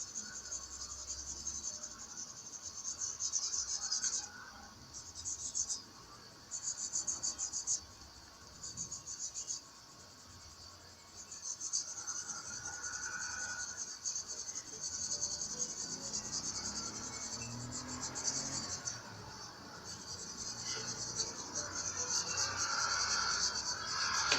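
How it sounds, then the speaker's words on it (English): Charcoal pencil marking and shading an eye drawing on paper, a soft dry scratching that comes in short bursts with brief pauses, close and fairly quiet over a steady high background hiss. "let me bring in my charcoal pencil to mark out this"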